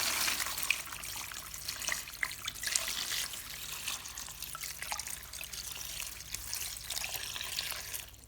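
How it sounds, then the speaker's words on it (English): Clean water poured into a large basin of corn set to wash with a little salt, a steady, soft splashing trickle running throughout with no voices. "Then add clean water to the corn."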